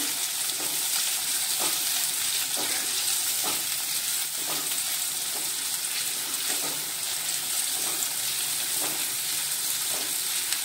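Curry leaves frying in hot oil for Maharashtrian zunka, a steady loud sizzle with faint rhythmic stirring scrapes repeating about every second throughout.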